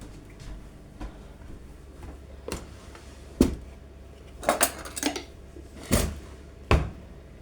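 A knife knocks and scrapes against a pan while spreading topping over a homemade pizza, with sharp close taps spaced irregularly and a few louder clatters of metal on metal in a quiet kitchen.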